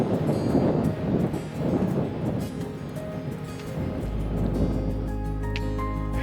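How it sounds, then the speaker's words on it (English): Wind buffets a microphone at a mountain summit near Glacier Knobs in Rocky Mountain National Park, a steady low rumble and gusty roar with no one talking, easing slightly toward the end. "It's always windy up here."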